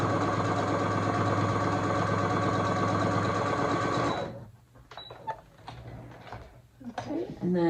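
A sewing machine stitches quilt binding in a steady, fast mechanical whir for about four seconds. It then stops, followed by soft handling noises and someone talking.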